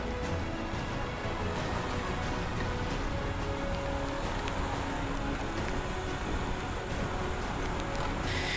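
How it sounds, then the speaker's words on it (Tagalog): Heavy rain pours on a vehicle travelling a dangerous mountain road in Kalinga, a loud, constant hiss and rumble of water and wind that continues unbroken throughout. "Grabe, nabutan tayo ng malakas na ulan."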